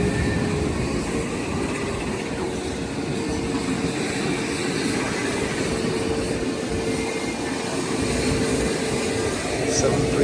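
Steady roar of Ryanair Boeing 737-800 jet engines fills the open air at Stansted Airport, a constant loud hum with airport bustle around it.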